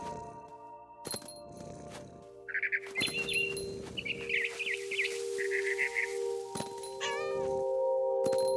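A cat meowing in the video game What Remains of Edith Finch, with a few meows and caterwauls mixed with bird chirps over steady game ambience.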